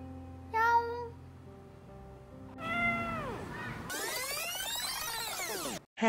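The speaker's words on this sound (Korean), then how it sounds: "야옹" A cat meows several times up close, with drawn-out rising and falling cries, the last one long and strained.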